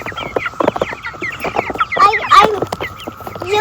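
Chickens clucking in a goat-keeping farm coop, a busy run of overlapping short clucks and squawks at close range, steady throughout with no talk.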